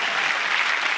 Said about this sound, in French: on applaudit pour toi, cadeau